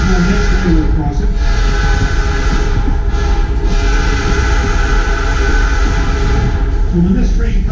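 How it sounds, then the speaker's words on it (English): A New Hope Ivyland Railroad train sounds its horn approaching a railroad crossing, heard from on board as loud sustained blasts over a steady rumble of rolling cars. "when this train comes to a railroad crossing, it's by law it has to blow the horn in a particular pattern"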